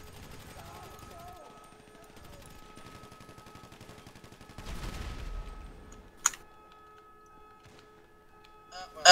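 Gunfire crackles in GTA 5 during a firefight in the Humane Labs mission, a rattling burst around five seconds followed by sharp single shots near six and nine seconds over a quiet low hum.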